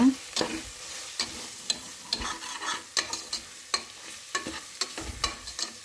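Biryani masala spices stirred and fried in a pot for mutton biryani, with regular scraping strokes of a spoon over a steady sizzle, close and fairly loud, with no talking.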